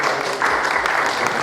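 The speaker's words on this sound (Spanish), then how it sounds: "un aplauso de bienvenida a Cristian Luco." A library event audience claps steadily in welcome of a guest speaker, a dense, even wash of applause lasting about a second and a half.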